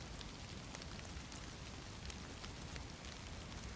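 Steady rain falls in the video game DayZ, a dense even hiss of drops on surfaces that continues softly throughout without a voice.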